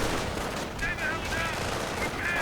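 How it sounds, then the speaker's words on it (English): Heavy machine gun fire crackles in a video game battle as riflemen come under attack, a steady dense stream of gunfire and explosions running throughout, with a commentator speaking over it. "Riflemen pinned down by quite heavy machine gun fire."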